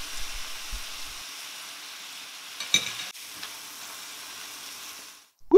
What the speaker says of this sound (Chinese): 再把牛肉下进去，非常快速的翻炒一下就可以出锅了